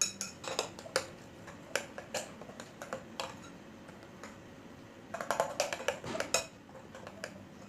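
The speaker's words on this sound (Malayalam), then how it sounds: "സ്പൂൺ വെച്ച് തന്നെ നല്ലപോലെ ഇളക്കിയെടുത്താൽ മതിയാകും." A spoon stirs cornflour into an anar (pomegranate) halwa mix in a bowl, giving quiet irregular clinks and taps that come in scattered bursts, close but soft.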